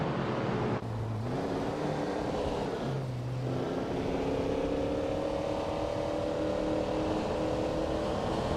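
Vintage street cars race around Mugello in a video game, engines droning and shifting up through the gears with rising, sustained tones, a couple of brief gear changes breaking the steady, fairly close hum.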